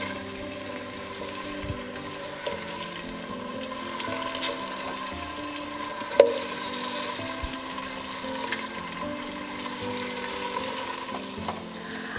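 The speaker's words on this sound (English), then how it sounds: "added a couple of tablespoonfuls of olive oil, and now we're going to put these potatoes in there" Potatoes sizzle in a couple of tablespoons of olive oil in a pot on a stovetop, a steady close frying hiss with an occasional soft clink.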